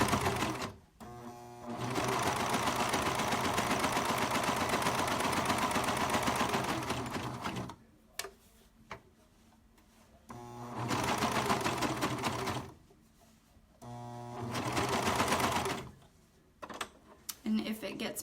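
A serger overlock sewing machine cuts and stitches fabric in long steady whirring runs, stopping and restarting several times with short gaps between. It is loud and close, with little else heard.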